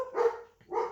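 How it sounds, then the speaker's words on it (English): Dogs give two sharp indoor barks close by, one after the other with a short gap between them. "So I am so sorry about my dogs."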